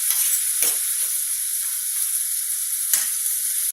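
Chicken stir-frying in a pan gives a steady, bright sizzle that holds evenly throughout, with a couple of brief clatters from stirring.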